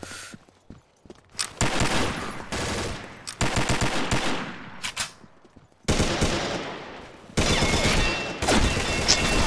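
Bursts of automatic gunfire from the video game Combat Arms, several loud rapid volleys separated by short gaps, with occasional single shots and faint footsteps between them.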